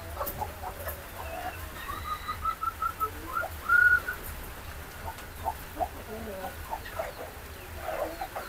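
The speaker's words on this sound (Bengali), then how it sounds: "এই যে মুরগিগুলা দেখায়।" Chickens on a poultry farm cluck softly and intermittently in the background, with a few higher calls and whistle-like tones over a quiet, faint room ambience.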